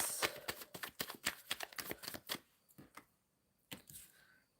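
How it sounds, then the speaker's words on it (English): Tarot cards are shuffled by hand in a quick run of crisp riffling snaps and slaps, close and fairly quiet. The run pauses, then a few last taps follow. "Shuffling for Nicholas."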